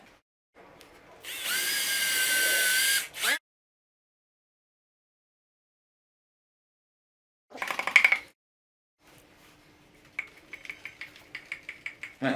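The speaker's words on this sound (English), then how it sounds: "Just drill up to the red mark." Power drill fitted with a bit from a drill bit kit whirs in a loud sustained burst of about two and a half seconds, followed later by a short second burst and a run of light tapping clicks.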